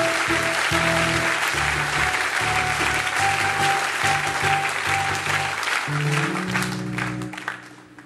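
A church congregation applauds and cheers in a loud, sustained burst lasting several seconds, with music playing underneath and the clapping thinning out at the very end.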